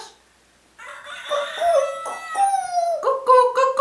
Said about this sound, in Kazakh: Әтештер қайтып айтады?